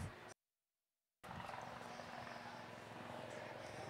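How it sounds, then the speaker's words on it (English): Medical evacuation helicopter landing, a steady rotor and engine roar that drops out briefly, then returns loud and continuous in the distance-to-near outdoor setting. "As the helicopter lands,"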